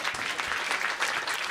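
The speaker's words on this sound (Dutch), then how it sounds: "Applaus nog even." Audience applause at a live Dutch stage event on sex and technology, a dense steady patter of many hands clapping close and fairly loud throughout, no voices on top.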